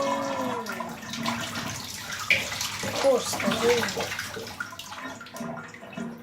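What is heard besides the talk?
water flowing in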